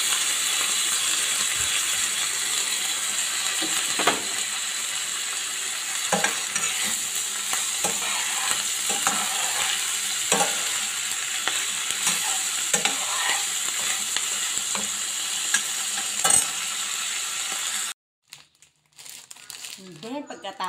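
Mushrooms sautéing in a pan with other aromatics for a creamy carbonara, giving a steady close frying sizzle with stirring scrapes and rustles, then cutting to near silence at the end.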